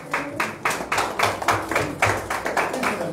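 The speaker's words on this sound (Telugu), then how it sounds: "చప్పట్లు కొడదాం గట్టిగా." A church congregation claps hands loudly in a quick, steady rhythm of sharp, dense bursts that carry on throughout the short stretch.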